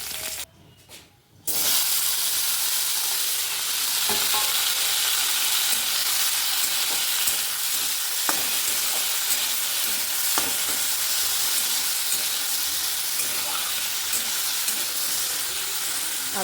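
Whole cumin seeds crackle and sizzle loudly in hot oil for a chutney of kul (jujube) and tomato, a dense, steady hiss after a brief quiet start, with occasional small pops and no talking.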